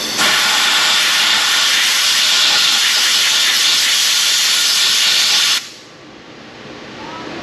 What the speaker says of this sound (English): I need to up the game with the brake clean pressure washer.